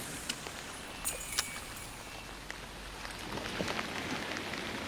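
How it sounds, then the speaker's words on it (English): Steady rain falling on a river while fishing, a soft continuous hiss of drops on the water with a few sharper nearby taps and splashes, growing slightly denser toward the end. "the rain just gives a certain amount of interference"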